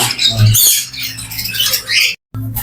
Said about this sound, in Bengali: এখানে এক জোড়া লরির পাখি